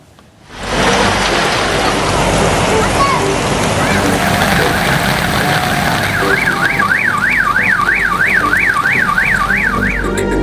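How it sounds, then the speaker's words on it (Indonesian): Heavy rain with strong wind in Jakarta roars as a constant, dense wash of noise, while a car alarm warbles up and down steadily in the background through the second half. "Hujan deras disertai angin kencang melanda sejumlah wilayah di Jakarta menyebabkan banjir"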